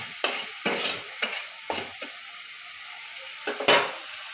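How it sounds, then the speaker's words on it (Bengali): Tomato masala stir-fried in oil for a Kajoli fish curry: a spatula scrapes and stirs in repeated strokes, each stroke bringing a burst of sizzling, with short quiet gaps between strokes. "এটা মশলাটা এখন কষবে, একদম হয়ে গেছে, এর থেকে মোটামুটি তেলও বেরিয়ে গেছে।"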